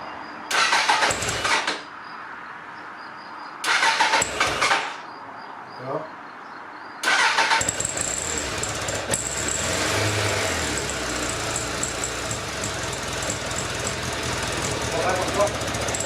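A Suzuki 1200 Bandit motorcycle engine cranks in two short bursts, then catches and settles into a continuous rough running rumble.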